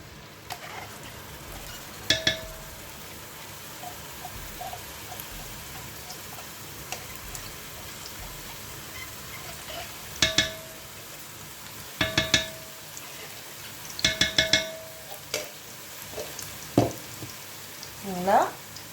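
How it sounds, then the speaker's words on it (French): Chopped onion and garlic fry in a pan for a quick cassoulet, a soft continuous sizzle broken by several sharp scraping and clinking stirs that come in clusters toward the end. "je mets l'oignon et l'ail haché"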